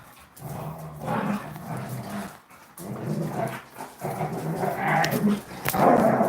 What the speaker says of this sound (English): Sorry if my dogs are loud.